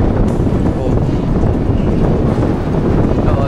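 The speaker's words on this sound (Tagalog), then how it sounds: "Sobrang lakas ng hangin." Strong wind buffets the microphone at a windmill site on Guimaras, a loud, continuous, rumbling roar with no letup.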